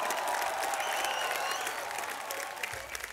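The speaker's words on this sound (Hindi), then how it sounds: "जोरदार तालियां हमारी इस जोड़ी के लिए।" Studio audience applause on a television twins talent show, a loud sustained wash of clapping from a crowd that tapers slightly toward the end.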